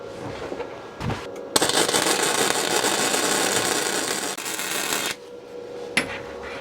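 A SIP synergic MIG welder lays a bead, producing a loud continuous crackling hiss for about three and a half seconds, bracketed by a quieter steady hum and a few brief clicks, no talking.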